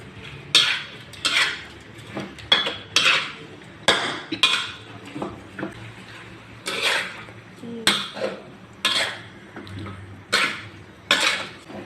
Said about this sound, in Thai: แล้วก็ซีอิ๊วดำลงไปค่ะ แล้วก็ผัดให้เข้ากันค่ะ